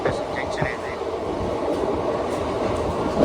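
Tirunelveli SF express train running through Tenali junction without stopping, a steady rumble and rattle of the carriages heard from on board, continuous and fairly close.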